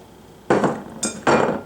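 Fresh cut carrots tumbling into a pot for a hamburger noodle soup with a tomato base, three quick clattering drops of pieces hitting metal, close and distinct over a quiet kitchen.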